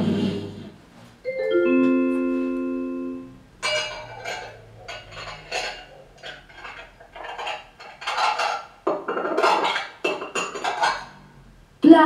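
Household plates clink and clatter against each other in repeated bursts of ringing ceramic knocks, close by, following a short steady tone at the start.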